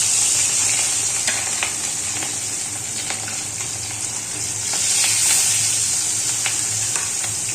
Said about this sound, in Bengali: আমার তেলটা গরম হয়ে গেছে এবার আমি এই এক এক করে সব মাছগুলো দিয়ে দিই